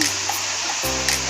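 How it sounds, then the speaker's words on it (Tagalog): Steady broadband rush of water flowing at Tutugunan Falls in Mainit, a constant close wash with no talk over it. "Ayan, Tutugunan Falls."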